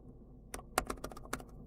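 Keys clatter on the keyboard bundled with a Huawei MatePad 11.5 tablet, a quick uneven run of about eight close, crisp taps with no talking.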